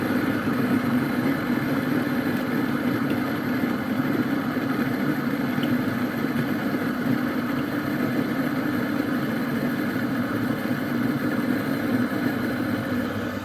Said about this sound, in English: Now, I put the coffee beans in the grinder and switch it on.